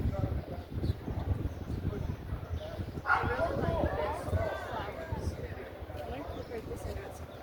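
A dog out on a sunny street in Fort Wayne gives a few short yips and soft woofs amid outdoor crowd murmur and passing chatter, moderately near but not loud.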